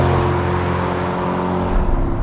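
A Chevrolet C8 Corvette Convertible launches hard from a standstill, its engine a loud, sustained, rising drone heard from inside the car, steady with no pauses and no voices over it.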